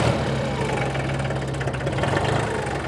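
Massey 1020 four-wheel-drive gear-drive tractor of about 20 horsepower idling at a farm auction just after starting, a loud steady knocking diesel rumble close by.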